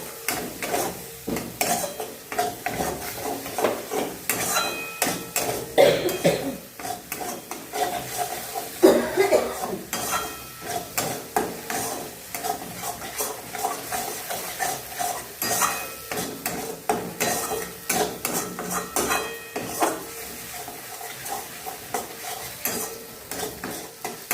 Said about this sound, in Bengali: দিয়ে মশলাটা কষিয়ে নেব